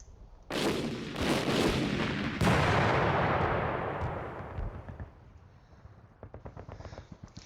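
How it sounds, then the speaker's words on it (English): Heavy artillery shells boom in a World War II strategy game, two or three big overlapping blasts that roll into a long, fading rumble. A softer patter of distant crackling fire follows the explosions. "let's try an artillery and see if we can"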